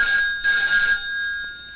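A telephone rings in a scene from the old Malayalam film Pingami, giving two close, bright bursts of electronic ringing separated by a short pause, with no talking.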